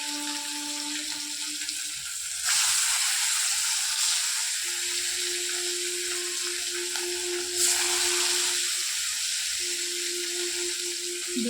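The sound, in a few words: fish frying in oil in a small pan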